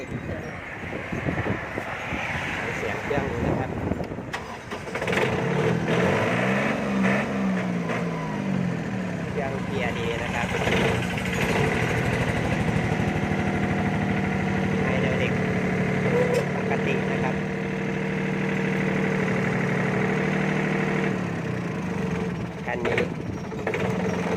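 A used farm tractor engine runs steadily throughout, a continuous rough mechanical drone that stays loud and close for the whole stretch.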